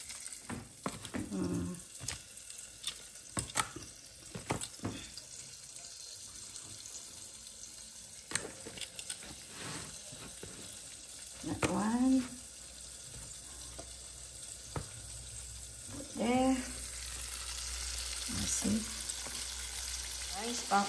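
Chicken pieces fry and get stirred in a pan while cooking chicken joy, with intermittent sizzling bursts and scraping stirs amid running water and kitchen clatter, mostly without talk.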